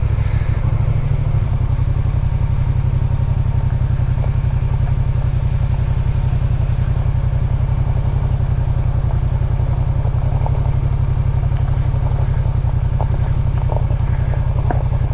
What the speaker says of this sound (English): The advantage of having a motorcycle.